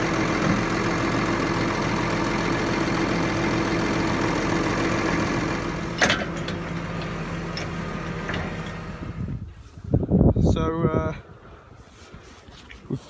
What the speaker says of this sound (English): we're going to be doing work with the New Holland tractors